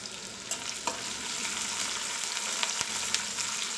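Onions and curry leaves frying in a pan for chukka curry, giving a dense, steady sizzle with a few scattered taps and stirs of a utensil, close and even, with nobody speaking.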